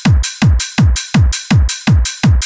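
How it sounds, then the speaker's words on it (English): A Eurobeat clap sample hits seven times in a tight, even rhythm, each sharp, bright burst landing with a deep thump that drops in pitch, loud and dry with no voices. "This one is a clap."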